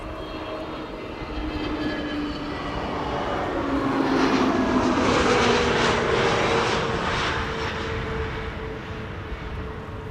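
Aircraft OE-LSN, a two-year-old jet, arrives at Amsterdam Schiphol, its engine roar swelling to a peak midway and then fading as it passes at a moderate distance, with no voices heard.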